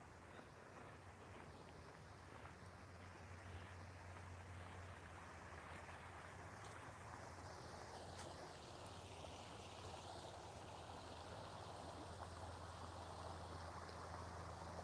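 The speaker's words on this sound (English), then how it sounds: "The noise of the water over there" Soft, steady rushing of flowing creek water continues throughout, faint and distant, with a low breezy hum beneath it.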